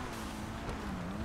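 A car in GTA V Online pulls up close by, its engine holding a steady hum that dips slightly in pitch as it rolls in and settles, with no talking over it.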